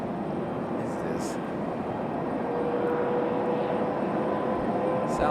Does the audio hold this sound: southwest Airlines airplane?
yes